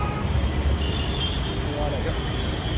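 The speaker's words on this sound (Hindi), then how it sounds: "तो यहाँ से मेट्रो पकड़ूँगा" A metro train rolls by with a steady loud rumble and rail noise, a faint high squeal rising near the middle, and speech mixed faintly into the din.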